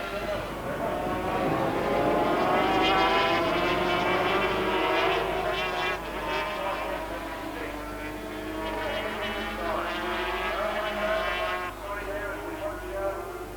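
Two Scholastic Yamaha racing motorcycles run side by side, their engines droning and rising in pitch under continuous race commentary.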